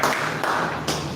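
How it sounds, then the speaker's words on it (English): An audience claps at a live public-speaking event, a dense, steady patter of many hands close by that swells in two brief surges and runs on without pause. "Please clap for them."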